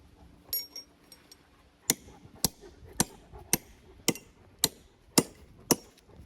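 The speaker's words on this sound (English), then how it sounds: "he hammers it with the other hammer" A hammer strikes metal in steady, ringing blows, flattening metal against another piece of metal, about one every half second, close and sharp, after a few lighter taps.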